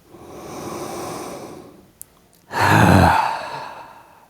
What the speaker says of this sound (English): let's take those nice deep breaths again. That big inhale, filling chest and tummy.